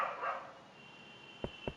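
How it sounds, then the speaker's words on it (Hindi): A dog in the Minecraft video game gives two short, sharp barks close together near the end of a brief, otherwise quiet stretch. "मेरे को लग रहा है इस कुत्ते की किसी से लड़ाई चल रही है बहुत दिनों से"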